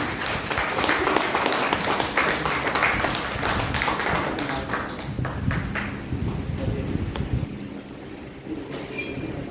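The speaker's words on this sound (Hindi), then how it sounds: "तो उसके लिए जोरदार तालियां मनोज सर के लिए" An audience gives loud, sustained applause for Manoj Kumar at a motivational seminar, a dense wash of clapping that gradually eases toward the end, with some talk mixed in.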